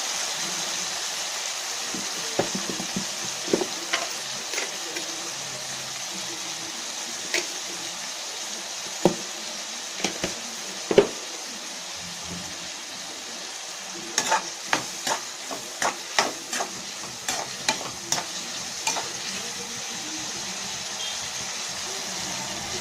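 Tomatoes sautéing with salt in a pan for a small-onion kara kuzhambu, a steady low sizzle broken by scattered sharp scrapes and taps of a spoon stirring, clustering more densely near the end.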